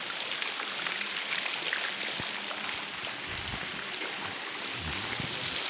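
Tham Soda waterfall in Nong Phok, Roi Et, Thailand, with water pouring down a cliff face in a steady, broadband wash that holds evenly throughout, fairly close and continuous with no talk over it.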